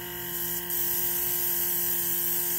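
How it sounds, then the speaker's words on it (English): Pelcas portable battery airbrush spraying black paint, a steady high-pitched motorized whine with a faint airy hiss, close and constant, with a small step up in level partway through. "let's try out the Pelcas airbrush"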